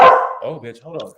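A pet dog named Luna barks at home, one loud bark followed by a couple of softer yips, heard mixed with a person speaking over it.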